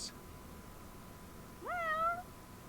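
A cat in the video game Lost Judgment gives a single short, rising meow over a faint steady background hum, fairly close and clear, with no talking.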